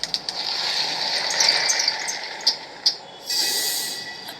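Subway train pulling into a station in a horror game, a loud sustained rumble with squealing wheels and sharp metallic clanks near the end, no voices.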